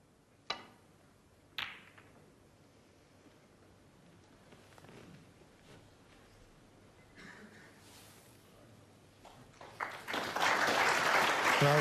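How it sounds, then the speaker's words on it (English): Snooker crowd at the World Championship semi-final breaking into applause near the end, rising to steady clapping after a quiet stretch with two sharp ball clicks early on. "there's applause"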